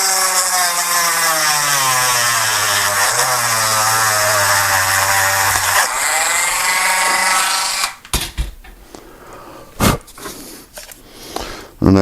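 A power drill bores through a metal part during aircraft construction on a 1927 Ford Flivver replica, its steady high whine holding for several seconds before cutting off, followed by a few short clunks and handling noises.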